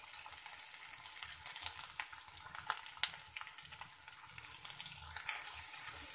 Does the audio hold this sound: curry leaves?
yes